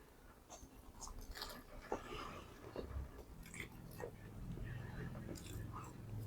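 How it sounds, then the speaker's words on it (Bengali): Someone bites into an egg and chicken roll paratha with onion, producing soft, quiet chewing and a few faint crunches close to the mic over low background noise. "চলেন একটা বাইট দিয়ে দেখি।"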